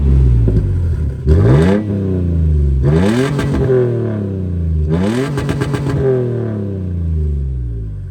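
A Toyota Tacoma pickup engine roars through three loud, rising revs with pauses between, each blip climbing and falling back to a steady idle, heard close to the exhaust tip with no talking.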